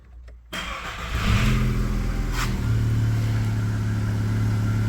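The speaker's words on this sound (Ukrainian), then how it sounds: "Заводимо автомобіль." A Skoda Octavia 1.6 BFQ petrol engine cranks and fires up close by, then settles into a steady idle with a slight rise in revs, no voices present.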